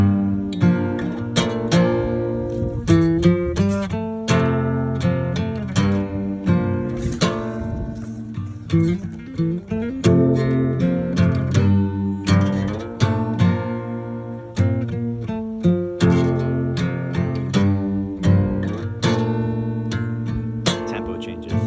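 An acoustic-style guitar strums the main riff of a song as a slowed-down loop, steady rhythmic strokes with ringing chords repeating throughout, close and clear with no talking.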